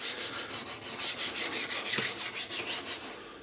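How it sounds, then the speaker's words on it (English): A stone scrapes back and forth across a steel T-slot plate in a steady rhythm of rasping strokes, close and fairly quiet. "you can feel it as you drag the stone across"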